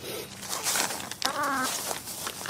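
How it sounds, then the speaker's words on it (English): Backyard chickens give brief soft clucks and a short warbling call, quiet and close, with faint rustling around them. "We need to go give our chickens a treat."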